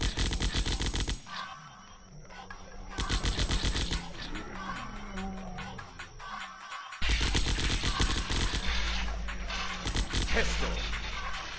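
Rapid bursts of automatic assault rifle fire from the zombie shooter game Zombocalypse, loud and close, repeating in sharp rattling volleys separated by brief gaps of game noise.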